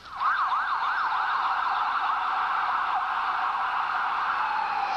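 An emergency siren wails near Foley Square in Lower Manhattan, starting with a rapid rising-and-falling yelp and then settling into a steadier tone, loud and continuous with no talking.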